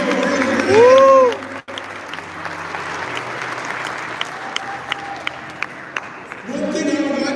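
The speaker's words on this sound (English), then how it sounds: "Give our brother Joe a loving round of applause." An audience applauds and cheers at a Martin Luther King birthday weekend celebration forum. The clapping is loud and sustained, and a whistle-like whoop rises over it early on. A voice speaks as the applause fades, and another burst of clapping comes at the end.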